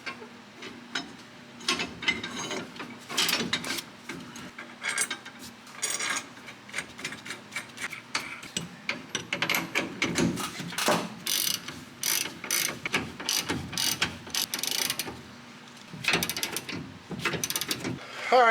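Ratchet clicking in rapid bursts while U-bolts are tightened on a 1970s Ford F100 Dentside pickup, close and fairly loud, with brief pauses between runs of strokes.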